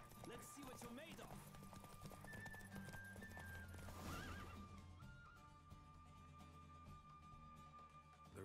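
A horse gallops in a race in The Witcher 3 video game, with rapid clip-clop hoofbeats and a whinny under a rising music score, while a voice speaks over it.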